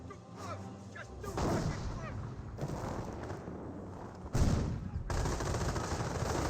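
MG42 machine gun fire in the video game Company of Heroes, dense rattling bursts mixed with booming battle noise, loud and continuous with a sharper burst near the end.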